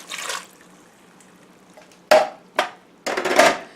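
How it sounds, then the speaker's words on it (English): A can of chicken broth poured into a crockpot for tortellini soup, a short splash followed by several gurgling pours in bursts, close and fairly loud. "Pour the whole thing in there"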